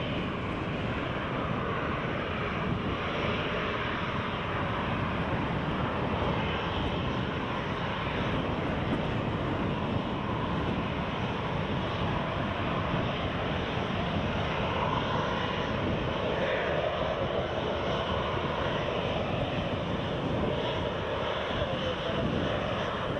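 Boeing 737 MAX airliner on its stand at Newcastle Airport: a steady, broadband jet-engine roar at moderate distance, unbroken throughout, with a little wind buffeting.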